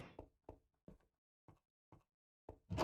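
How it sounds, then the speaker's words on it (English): Short wooden knocks and clacks from a door closing in the video game Minecraft, several sharp taps spaced apart in near silence, then a louder thud at the end. "Oh, close the door behind me."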